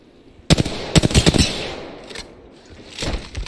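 Gunfire in the Apex Legends video game: a sharp opening shot, then a tight burst of rapid, loud reports in quick succession, fading to softer distant shots and rumble near the end.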